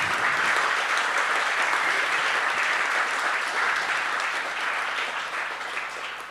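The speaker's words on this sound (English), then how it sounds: "A big round of applause," Audience applause at a Bangalore gathering, a dense steady wash of clapping from a large crowd that holds strong throughout and tapers slightly at the end.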